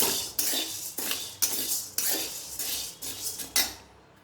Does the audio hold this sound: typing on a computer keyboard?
no